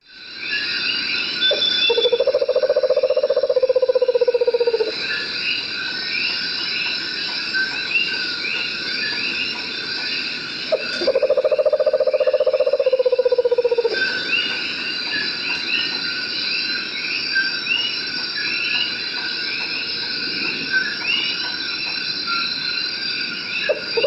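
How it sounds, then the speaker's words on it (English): Two trilling calls of a Puerto Rican screech owl sound several seconds apart over a constant chorus of insects and frogs, at the San Juan Bay Estuary in Puerto Rico. "We have the Puerto Rican screech owl, which has a very cool call."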